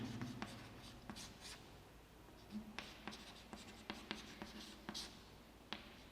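Writing on a board during a maths lesson on applications of trigonometry: marker or chalk strokes with irregular taps and scratches, close and fairly quiet, running steadily throughout with no speech.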